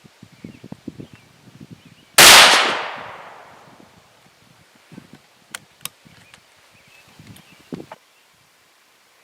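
A single sharp .222 Remington rifle shot firing Prvi Partizan ammunition at a 100-yard range, one loud crack that decays over about a second, followed by faint rustling and small clicks.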